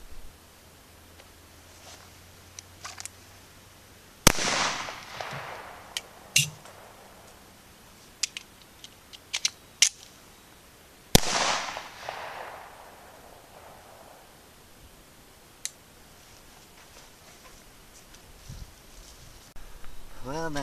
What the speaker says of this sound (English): got the Remington 1911 out. Gonna be shooting a spear, 185 grain flat nose